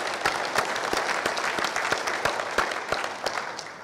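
Steady audience applause, many hands clapping together at close range for several seconds, with no voices over it.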